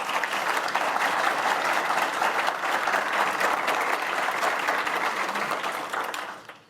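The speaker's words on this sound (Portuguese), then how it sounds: "Recebam com salva de palmas, Ciro Gomes." A large audience at a Brazil forum event in the UK applauds as a presidential pre-candidate is welcomed, with dense, sustained clapping that stays steady for about six seconds before fading away at the end.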